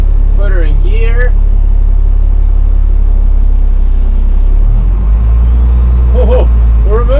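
An abandoned 1981 International truck rumbles in gear with a low, steady engine drone as it starts rolling, the pitch dipping slightly partway through, while someone talks briefly over it at the start and end.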